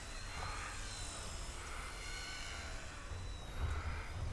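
Eachine E110 mini RC helicopter spinning at full rotation while pushed forward, a steady close buzzing rotor whine that holds evenly and swells slightly near the end.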